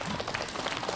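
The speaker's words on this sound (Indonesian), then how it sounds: "tepuk tangan dulu dong" An audience at an Islamic gathering applauds in a brief, dense burst of steady clapping.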